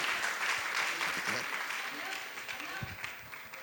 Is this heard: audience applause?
yes